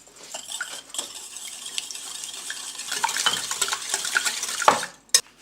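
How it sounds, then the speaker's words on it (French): A whisk beats milk, egg, salt and sugar together in a bowl for a chocolate brioche dough, giving close, rapid, steady clinking and scraping strokes that build in intensity, with no voices. "les 25 g de sucre que je vais mélanger avec un fouet"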